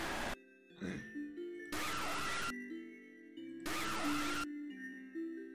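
A jump scare in the Five Nights at Freddy's fan game Fazbear Entertainment: Storage: harsh, blaring bursts that sound like a passing truck siren, repeating between sustained electronic tones.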